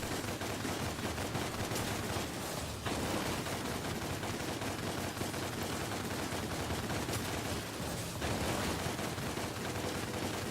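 Gunfire in the action video game DmC: Devil May Cry, a dense, loud barrage of shots and blasts that continues almost without a break for ten seconds.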